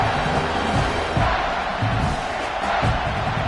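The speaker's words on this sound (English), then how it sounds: "3rd down, and the crowd really getting into it." Stadium crowd at a football game roaring steadily on third down, a dense continuous wash of cheering and whooping that swells slightly in the middle.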